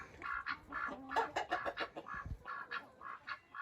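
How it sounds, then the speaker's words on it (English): Chickens clucking close by in a coop in short, uneven bursts, a few overlapping calls with no talking. "Look how happy the chickens are outside."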